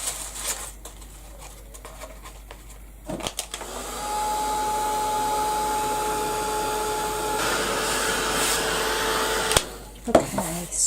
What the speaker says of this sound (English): Now I'm going to give that a quick blast with the heat gun.